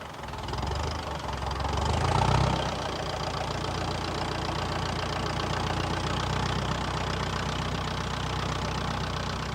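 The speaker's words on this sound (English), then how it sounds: "We still use the TE20 tractor because it does a lot of jobs that the heavy one wouldn't do so well." Ferguson TE20 tractor engine idles with a steady, rough mechanical chug and knocking rumble, close and continuous, rising briefly in loudness early on before settling into an even running note.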